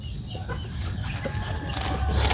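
Chickens cluck nearby in a steady murmur, with a few sharper calls over low background rumble.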